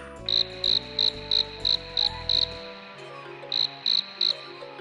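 Crickets chirping in the Scooby-Doo Phantom of the Knight PC game, a loud, regular series of short bright pulses, then a pause and a few more, over low game music and tones.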